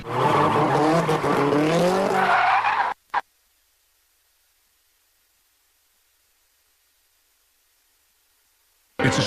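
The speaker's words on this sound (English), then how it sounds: "A competition in which cars are deliberately oversteered to slide and spin through a series of sharp turns" Cars in a drift competition are oversteered to slide and spin through a series of sharp turns, with squealing tires and revving engines loud for about three seconds before cutting to silence.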